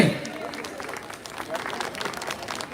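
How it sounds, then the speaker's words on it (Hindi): An audience claps loudly at a live lucky draw stage event with a magician in Kondagaon, a dense, steady burst of applause with a voice talking over it. "सब लोग एक बार हाथ खड़े करके जोरदार ताली बजाइए।"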